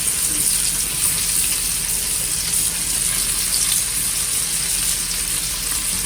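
Onions hit hot melted butter in a pan, a steady, broad sizzle that holds evenly throughout, close and fairly loud, with a bright hissy edge and nothing else over it.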